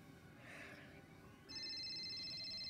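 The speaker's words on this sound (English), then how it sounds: "Oh, my phone's ringing." A telephone starts ringing partway through with a faint, steady electronic tone over a quiet room.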